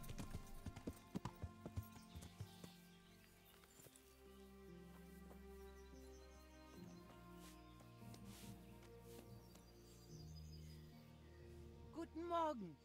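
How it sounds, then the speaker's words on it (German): Horse hooves clip-clop steadily while riding toward a bathhouse in the medieval game Kingdom Come: Deliverance, mixed under game music with brief voices and a whinny near the end. "So, wir reiten einmal zum Badehaus"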